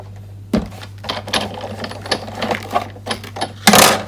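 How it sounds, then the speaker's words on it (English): A Big Shot hand-cranked die-cutting machine cuts a rectangle from card, giving a close run of mechanical clicks and thumps over a steady low hum, ending in a louder grinding burst. "I'm going to bring in the Big Shot and we're going to die cut that rectangle"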